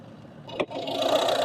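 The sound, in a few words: Volvo V50 car engine running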